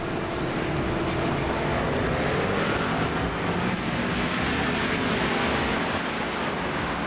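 Race cars roar around the track in an iRacing NASCAR video game during a Bristol night race, a dense continuous engine drone with no break or clear pass-by, steady and moderately loud.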